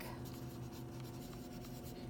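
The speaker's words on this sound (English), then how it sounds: "you're going to write your name on the back" Pencil writing a name on the back of a sheet of paper in a classroom art lesson, a steady continuous scratching close by with a constant low hum underneath.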